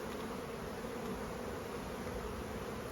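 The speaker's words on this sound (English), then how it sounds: "Well, these are pretty calm bees." Calm honeybees buzzing as a nucleus colony is transferred into a full-sized hive: a steady, close, unbroken hum with no voices over it.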